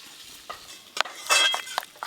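A mustard, poppy seed and green chilli paste is mixed with mustard oil, salt and turmeric, giving a few close, brief scraping and stirring strokes against a bowl, with faint clinks between them.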